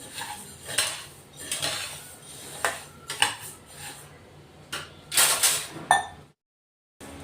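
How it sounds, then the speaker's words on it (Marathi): Coriander seeds dry-roast in a pan, with a spatula clinking and scraping against the metal in short irregular bursts, close and fairly quiet, ending in sudden silence. "असे चांगले खमंग आपण आता हे धने भाजून घेऊ"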